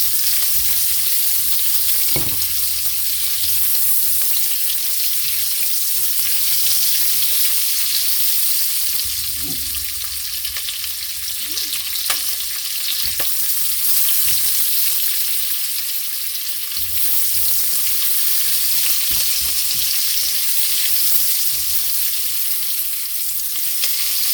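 Onion and garlic sauté in a hot pan, a steady loud sizzle running throughout with occasional stirring scrapes and clicks, no voices.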